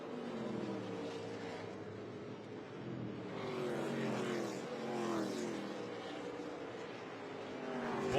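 ARCA Menards Series West stock cars race at Irwindale Event Center, two cars sliding out of turn four, their engines a steady, fairly distant roar that swells and fades as they pass.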